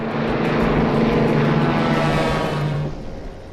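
A propeller airplane approaching Ndola airport in a dramatized reconstruction gives a loud, steady droning engine roar with a throbbing tone that eases off near the end.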